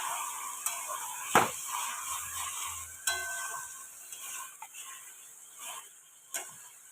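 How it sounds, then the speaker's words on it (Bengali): Mutton with garam masala is stir-fried in oil in a pan, with a soft steady sizzle under scattered spoon scrapes and a few sharper knocks against the pan, fairly quiet and with no voices. "ভালোভাবে তেল না ছাড়া পর্যন্ত এইভাবেই কষাতে থাকবো।"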